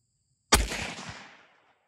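A single shot from an old military bolt-action rifle firing surplus ammunition at a steel target cracks sharply, followed by a rolling outdoor echo that fades over about a second.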